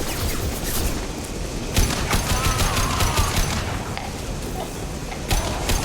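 Rapid gunfire in Mass Effect 2 aimed at a loose fuel tank, dense bursts of shots and sharp impacts over a continuous, noisy combat din, loud and close.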